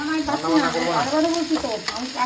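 Onion fries in a hot pan over black cumin (kalonji), a close crackling sizzle with bubbling pops, steady and without speech.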